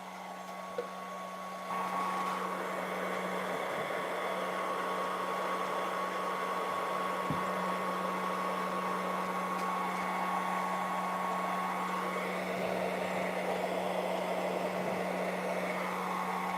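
A failing heater blows hot air onto a Novarossi nitro engine in a Serpent race car, a steady close whooshing blower drone with a faint tonal hum that starts abruptly and runs on without voices.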